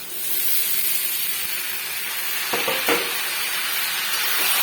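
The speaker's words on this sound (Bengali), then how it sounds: "এবার আমি এর মধ্যে চালগুলো দিয়ে দেবো, গোবিন্দভোগ চালগুলোকে দিয়ে দেবো।" Gobindobhog rice grains hit a hot pan and fry with a broad, steady hiss, a couple of brief scraping knocks near the middle, close and even throughout.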